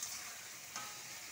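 Prawns and banana flower stirred in a frying pan with spices, a steady close sizzle and faint scrape of stirring over a short moment, with one brief brighter scrape near the middle.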